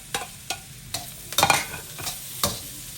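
Carrots and beans sautéing in a pan, a soft background sizzle broken by several sharp scrapes and clacks of a spatula stirring the vegetables, close and intermittent.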